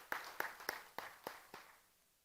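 Listeners at an evening church seminar give a short round of applause, heard as about six sharp, evenly spaced claps that fade quickly and quietly.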